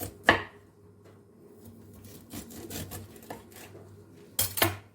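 A few sharp knife strikes on a cutting board, with scraping and light rubbing between them, and a louder pair of chops near the end.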